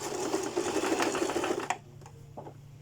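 A sewing machine stitches a 1 cm seam joining back pieces of a French-cut bodice, running in a fast steady whir close by for under two seconds, then stopping with faint handling clicks.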